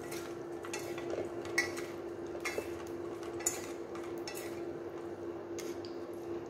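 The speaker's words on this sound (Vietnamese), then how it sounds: "Trộn đều lên cho nó thấm." Seasoning powder is stirred into vegetarian curry ingredients of banana and tofu, with light scattered clinks and scrapes of a utensil against a bowl over a faint steady hum, quiet and close.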